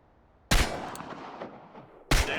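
Two loud, close gunshots at practice targets in the video game Chernobylite, about a second and a half apart, the first trailing into a long echoing decay.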